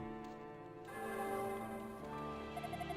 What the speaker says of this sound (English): The bell in the shrine is ringing again.